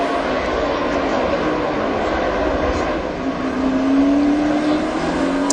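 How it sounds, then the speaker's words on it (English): NASCAR Winston Cup stock cars roar across the start-finish line at Richmond International, a continuous loud engine drone with a rising whine as a car passes close. "Watch Montoya as he works up here across the start-finish line."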